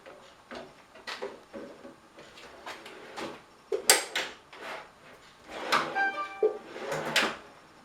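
Wooden drawer built with pocket-hole joinery sliding and knocking shut in a woodworking shop, a series of close, sharp wooden clacks and scrapes spread irregularly with a few louder thumps, no talking.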